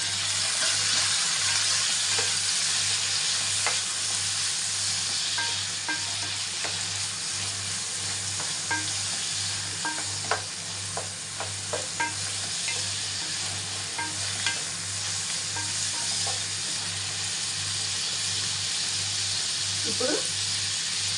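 Tomatoes for tomato rice sizzle steadily in a hot pan, a continuous broadband frying hiss with scattered stirring scrapes and clinks throughout, plus a low steady hum underneath.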